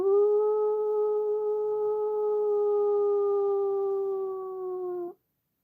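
A person imitates a wolf howl, one long sustained steady-pitched note held for about five seconds, loud and close, then cut off abruptly.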